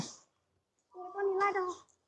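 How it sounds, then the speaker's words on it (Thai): A domestic cat lets out one drawn-out, close meow lasting about a second after a brief quiet pause, preceded by a short faint noise. "น้องอ้อมน่ารักมากเลยน้องแมว"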